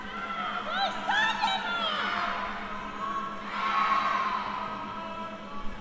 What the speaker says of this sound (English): Ogra players cheering on each other